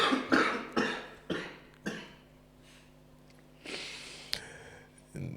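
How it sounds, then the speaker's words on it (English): Several sharp, close coughs come in a podcast recording, spaced apart with breathy pauses between them and a louder rasping burst near the end. "the way that I coughed right after you said that is a bit mad"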